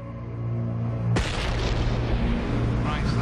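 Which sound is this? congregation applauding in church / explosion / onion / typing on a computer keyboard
explosion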